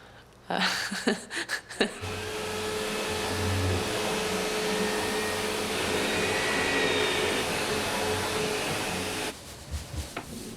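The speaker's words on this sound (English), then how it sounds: "The hoover was difficult to use in high heels." Household vacuum cleaner switches on after a couple of knocks and runs with a steady, loud motor whine and airflow roar for several seconds, then cuts off, followed by a few bumps.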